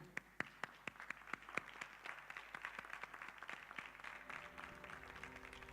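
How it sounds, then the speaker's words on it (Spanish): An audience claps, starting with a few distinct sharp claps that quickly swell into steady, moderately quiet applause. "Por favor, un aplauso a Luis Pixú."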